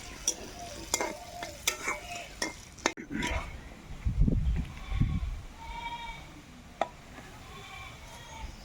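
Potatoes frying in oil left over from frying fish, with a steady sizzle and sharp clacks of a utensil stirring against the pan, followed by a few louder scraping bursts.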